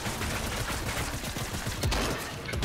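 Gunfire in the video game Fortnite, a rapid rattling fusillade of shots running continuously for nearly three seconds and ending in a sharper, louder bang, with no voices over it.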